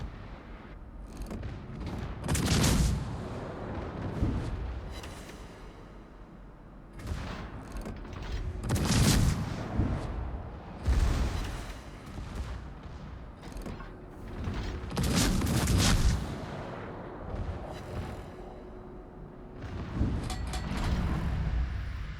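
Heavy warship gun salvos from a naval battle video game, with deep booming volleys landing in several rising waves about every few seconds, loud and rumbling with no talk.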